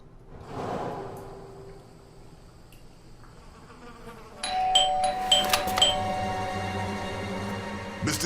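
A doorbell chime rings inside the video game Blues and Bullets, a bright multi-tone ding-dong in the middle of the clip over quiet room ambience and low background music.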